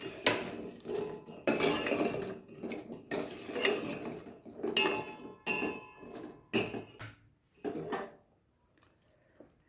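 Fried gulab jamuns dropped and stirred into sugar syrup in a metal pot, with repeated clinks and clatters of a spoon against the vessel in uneven bursts, close and loud, then tapering off.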